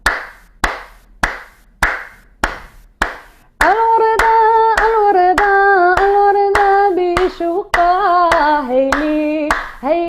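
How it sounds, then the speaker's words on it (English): Open-fingered North African rhythmic clapping rings out in six sharp, resonant claps, then a steady beat continues under a singer's sustained melodic vocal. "to clap with fingers open, and that creates like a very resonant sound"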